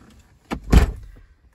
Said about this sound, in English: give it a minute by opening up this door